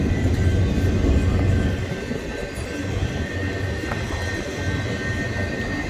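BNSF 7355 westbound freight train with mid-train distributed power units and piggyback cars rolling past, a steady low rumble of wheels and engines, louder at first and then settling into an even roar.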